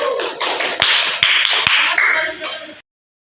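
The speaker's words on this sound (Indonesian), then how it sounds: "tepuk tangan untuk kelompok 1" A classroom group claps for a presenting student group, several sharp close claps standing out over a short burst of scattered hand clapping, with voices talking over it before it cuts off abruptly.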